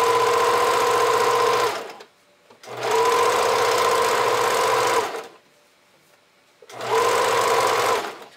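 A sewing machine stitches half-inch band elastic onto a bra in three loud, close bursts of steady rapid whirring, with short quiet pauses between them.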